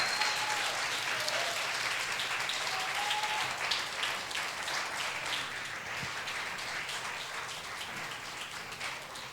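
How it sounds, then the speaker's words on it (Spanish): A church congregation breaks into applause during a sermon, a broad, sustained clapping from a large crowd that holds steady and tapers slightly toward the end, with no talking over it. "Si vas a aplaudir, aplaude ahora."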